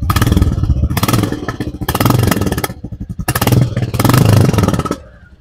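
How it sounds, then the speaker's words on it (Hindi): A Royal Enfield Bullet 350 (2023 model) runs with a loud, close exhaust note, revved in several strong bursts, each a rapid thumping pulse that rises and falls, separated by brief lulls of near-idle, with no speech. "ये इसका एग्जॉस्ट नोट था"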